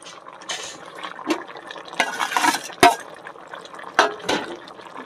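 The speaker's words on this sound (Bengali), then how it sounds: "তো ঝোলটা দেখো সুন্দরভাবে ফুটে উঠেছে" A pot of fish curry gravy with fried fish, potato, aubergine and olives bubbles close by, giving irregular liquid gurgles and splashy pops.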